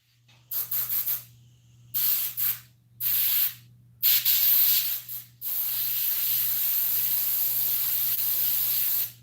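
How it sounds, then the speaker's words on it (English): Airbrush spraying paint onto a Krampus mask, a string of short hissing bursts followed by one long steady spray, close and fairly loud over a low constant hum. "So this airbrush changing colors takes a little bit of time, but not a ton."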